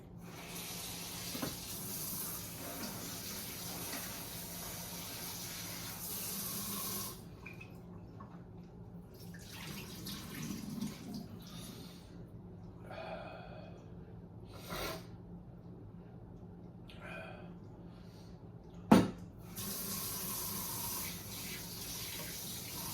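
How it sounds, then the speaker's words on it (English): A tap runs over raw shrimp being rinsed in a kitchen sink as Cajun coconut shrimp is prepared, with a steady near hiss of water broken by pauses, splashes and one sharp clunk, and no talk. "But let me rinse these off real quick."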